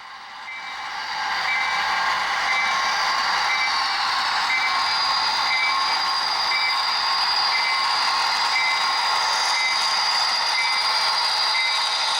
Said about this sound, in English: The train slows to restricted speed so as to safely pass a work crew repairing a switch.